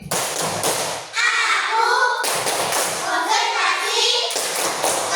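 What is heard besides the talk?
class doing a 'tepuk konsentrasi' concentration clapping routine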